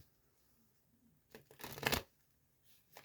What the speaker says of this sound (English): Get some shuffling in there.